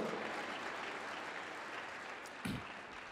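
A church congregation claps in praise, a steady, moderately distant wash of applause that holds evenly throughout, with one brief louder thump near the end and no clear speech.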